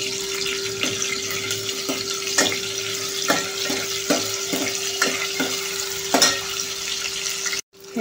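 Dried bombil fish sizzles steadily in hot oil as it fries until brown, with a dense, close crackle and occasional sharp clicks of stirring throughout.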